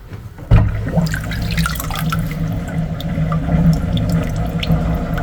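Water gurgles and rushes as a clogged kitchen sink drains, a steady swirling flow with bubbling and dripping, close and fairly loud throughout.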